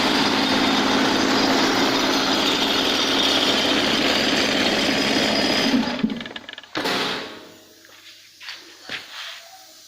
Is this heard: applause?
no